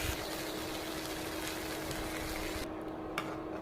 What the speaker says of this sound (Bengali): পানিটা দিয়ে দিলাম।